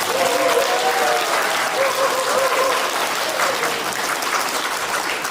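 Enthusiastic audience applause welcoming two politicians at a talk concert in Gwangju, a dense, steady wash of clapping with faint voices calling out beneath it throughout.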